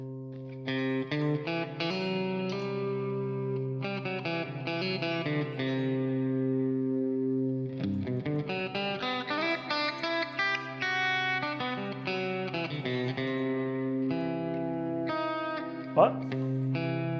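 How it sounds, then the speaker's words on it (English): Electric guitar played in the Lydian mode through a Quad Cortex modeler, sustained effected chords and melodic lines with chorus and reverb, loud and continuous for the whole stretch with no talking. "So I'm sounding Lydian, I'm practicing."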